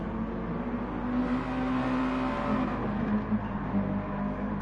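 Mazda MX-5 race cars dueling at Brands Hatch, a steady loud engine drone with a rising and falling pitch as the cars run close together, no talk.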